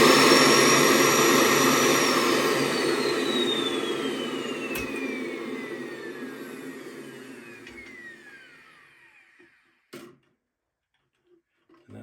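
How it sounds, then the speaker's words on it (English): A small, powerful vacuum forming machine's vacuum motor gives a loud, whining roar that winds down steadily in pitch and fades to silence, followed by a few light clicks. "I shut the heat off and I turned the vacuum on because this is a pretty powerful little machine."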